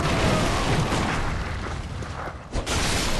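A heavy gunshot blast from a rifle spear fired in Bloodborne, loud and booming at first, then fading into a rumbling tail before a brief second thump near the end.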